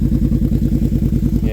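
A nitro RC truck engine running on Klotz nitro fuel idles close and loud in a steady, rapid, even putter with no throttle changes.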